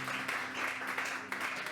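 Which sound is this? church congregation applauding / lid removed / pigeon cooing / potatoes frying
church congregation applauding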